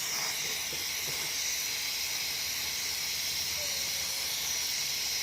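Welding on the crankcase of a Honda Wave 125 motorcycle makes a constant, even hiss that holds steady throughout at moderate loudness, with no voices.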